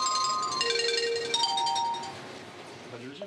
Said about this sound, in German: Mitten im Interview läutet das Telefon.